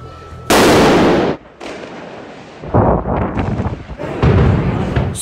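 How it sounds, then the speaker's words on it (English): Pyrotechnic fireworks burst in Valencia's city center, a very loud close blast followed by a string of heavy booming explosions and rumbling crackle, several thunderous hits in quick succession. "Pyro technicians bombing the whole center of the city"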